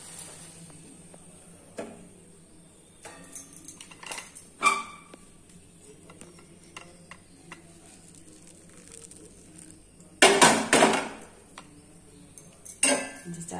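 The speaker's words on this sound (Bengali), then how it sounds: "এবার চাটা ছেঁকে নেবো আমি" Tea being strained at home, with cups and metal utensils giving a few sharp clinks and rattles, the loudest cluster coming near the end over a quiet room.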